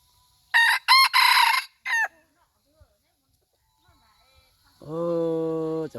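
Two new roosters: short loud clucking bursts come first, followed after a quiet pause by one long, clear crow close by.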